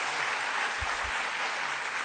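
An audience at a public lecture applauds in a dense, continuous wash of clapping that stays steady for about two seconds, with no voices over it.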